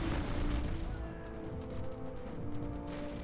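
Loud, dense explosions and crashing booms in the video game Black fill the scene continuously, with a rumbling low end and bursts of debris-like noise.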